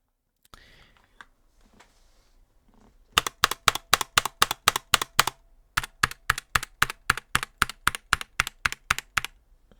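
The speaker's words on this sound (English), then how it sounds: "that's how the Apex Pro sounds, which is a keyboard I currently have on hand" A long run of sharp, evenly spaced clacks from a SteelSeries Apex Pro mechanical keyboard's spacebar, close and loud, with a short pause midway; faint whispering comes before them.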